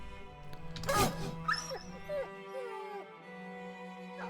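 A dog whimpers in a few short, high, wavering whines over steady game music and a background hum, with one brief louder burst near the start.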